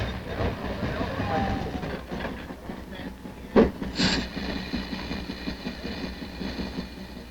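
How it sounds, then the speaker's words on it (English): A train rumbles past with rhythmic clickety-clack of wheels on rails and a low engine drone, one sharp clank partway through. "this is the first train"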